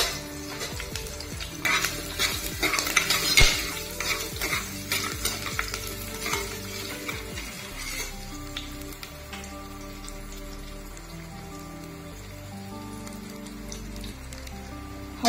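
Cashews, curry leaves and sliced green chilli frying in oil for veg rice, with stirring scrapes and crackling sizzle that are busy at first, then settle into a quieter, even sizzle.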